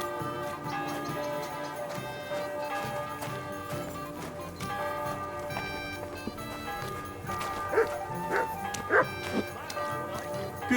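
Dog barking in the video game Kingdom Come: Deliverance 2, a few sharp barks rising late over steady game music and ambience, with hoofbeat-like sounds mixed in the background.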